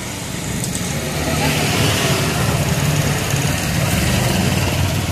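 A second-hand auto rickshaw engine idles close by in a loud, steady, rough rumble, unbroken throughout, with a voice talking over it.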